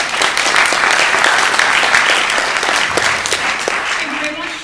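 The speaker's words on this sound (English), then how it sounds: "Give her a round of applause." A live audience applauds steadily for a panel moderator being introduced at an evening event, dense clapping holding at full strength before easing slightly near the end, with faint voices mixed in.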